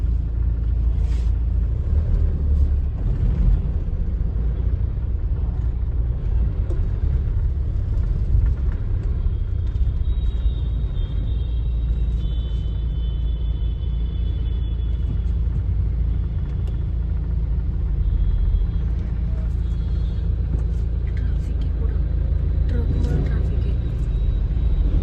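Road traffic at Prayagraj near the Triveni Sangam during holiday-season congestion, heard as a continuous low rumble of engines and tyres that stays steady and fairly loud throughout.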